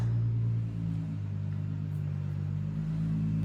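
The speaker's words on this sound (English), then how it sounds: "I can hear a car coming." A car arriving near a house and revving, a low steady engine rumble with a slight rise in pitch partway through, heard faintly from a distance with no speech.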